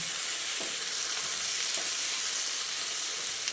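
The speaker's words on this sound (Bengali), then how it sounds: "টমেটো ক্যাপসিকামটা দিয়ে বেগুনের সঙ্গে ভালো করে মিশিয়ে নিচ্ছি" Chopped tomato and capsicum are stirred into frying eggplant in a pan, producing a close, steady sizzle with occasional soft scrapes of the spatula.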